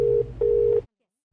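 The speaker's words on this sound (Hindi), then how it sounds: "वो आपका रिंग शायद एक्सचेंज में जा रहा है" A telephone line gives a steady electronic tone in two long bursts separated by a short gap, then cuts to silence.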